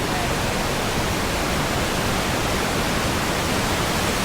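Waterfall at Green River Gorge near Seattle, heard as a steady, dense, unbroken roar of falling water that fills the whole clip evenly, with no voices.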